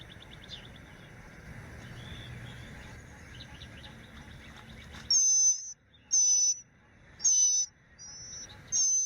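High, thin calls come from fledgling birds in a nest on a tall tree, four sharp repeated bursts following a soft, murky stretch of quieter chirps and rustle. No voices.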